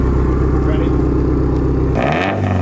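A 2010 Subaru STI hatchback with a Nameless track exhaust pipe rumbles loudly at close range, a steady heavy engine drone that shifts and rises near the end as the revs change.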